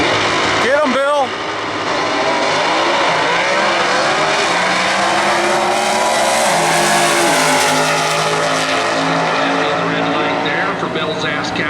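A three-pedal GTK drag race car roars down the strip at a Norwalk Division 3 points race, engine note rising through gears as it accelerates loudly and steadily away, with no talk over it.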